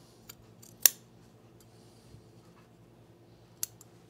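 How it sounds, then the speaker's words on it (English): Scissors make a sharp single snip through shirt fabric, lopping off a corner of the facing while sewing a men's tropical shirt, followed by a couple of fainter clicks over quiet room tone. "Right now we're about to lop off the corner. And then I just trimmed the facing down"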